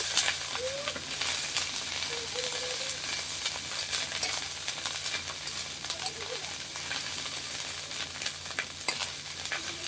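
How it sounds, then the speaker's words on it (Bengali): Meat sizzles and fries in a hot wok while a utensil stirs and scrapes through it, a continuous busy hiss up close. "দেখুন এইভাবে আপনারা মাংস রান্না করবেন"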